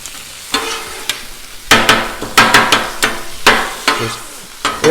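Ground beef being flipped and stirred with a spatula on a Blackstone griddle for a taco skillet, a steady sizzle broken by sharp scraping clatters that come in irregular bursts, close and fairly loud, with no talking.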